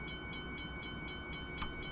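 A train rolls past in Train Simulator 2017, a steady low rumble with a rhythmic clatter repeating about every quarter second, fairly faint and with no voices.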